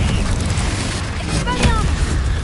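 A Confringo blasting spell goes off in Hogwarts Legacy, a booming burst with crackling debris rising over a rumbling battle backdrop, while a voice shouts spell names around it.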